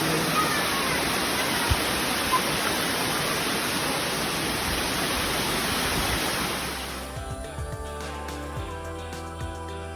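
The Muthyala Maduvu waterfall in the rainy season pours as a loud, steady roaring rush for about seven seconds, then cuts to quieter ambience with scattered knocks.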